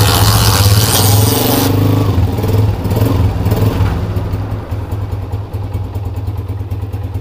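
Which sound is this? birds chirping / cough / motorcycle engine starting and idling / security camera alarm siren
motorcycle engine starting and idling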